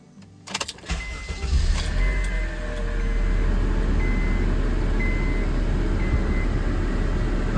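A 2007 Honda car starts up after its starter was replaced: a few clicks, a short cranking whir, then the engine catches and settles into a steady, loud idle close by.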